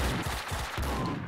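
Gunfire in the video game Max Payne 2: The Fall of Max Payne, a rapid run of loud, punchy shots in quick succession, close and dense with little gap between bursts.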